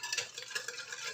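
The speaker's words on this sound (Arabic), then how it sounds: "صافي غادي نخلطو مزيان" Harcha dough for oven-baked flatbreads, made with yogurt and semolina, being stirred in a bowl: a steady, close, wet scraping and churning that continues without pause.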